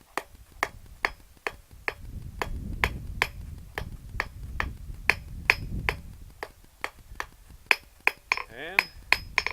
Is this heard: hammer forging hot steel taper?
yes